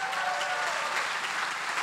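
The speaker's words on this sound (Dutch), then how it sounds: "Kunnen jullie het laatste applaus geven aan onze staatssecretaris van Onderwijs" Audience applause for the Dutch state secretary of education at a conference, a dense, steady wash of many hands clapping at once that holds evenly throughout, with no voices standing out.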